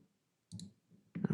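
Computer mouse clicks while selecting lines in CAD software: two short, crisp clicks close to the mic in a quiet room, with a brief faint breath or murmur between them.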